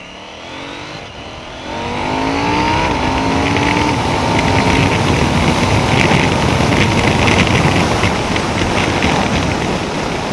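KTM 790 Duke motorcycle accelerating hard and shifting up through the gears, a loud, close engine roar with rising revs and brief drops at each shift, over steady wind rush.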